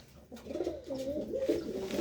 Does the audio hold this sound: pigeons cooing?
yes